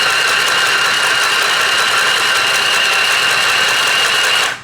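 A Singer Stitch Sew Quick 2 sewing machine stitches fabric for a handmade rag doll with a loud, steady motor whir and rapid needle chatter that runs continuously, then stops abruptly at the end.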